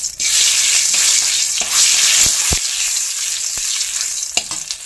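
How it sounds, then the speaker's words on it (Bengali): Whole cumin, a dried red chilli and bay leaf sizzle loudly in hot oil, a close, crackling hiss broken by sharp pops and the knock of stirring against the pan. "তেল গরম হয়ে গেছে, এবার আমি দিয়ে দিচ্ছি গোটা জিরে, একটা শুকনো লঙ্কা, আর এখানে দিয়ে দিচ্ছি তেজপাতা"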